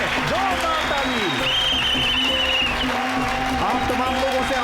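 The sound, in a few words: audience applause at a wrestling match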